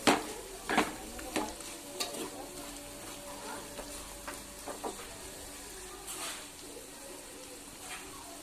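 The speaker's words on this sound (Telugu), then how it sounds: "కారం, పసుపు, ధనియాల పొడి పూర్తిగా క్యారెట్కి పట్టేలాగా కలిపేసుకోవాలి" Chilli powder, turmeric and coriander powder are stirred into carrots in a pan for carrot tomato curry, with quiet scraping and a few sharper spoon knocks over a faint sizzle.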